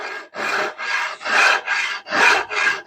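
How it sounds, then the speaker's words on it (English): The edge of a file rasps along a groove in a wooden stair spindle in about seven steady back-and-forth strokes, each a gritty, scraping rush, close up and without speech. "you use the edge of your file in the groove that you've created with your chisel, and you rasp straight ahead"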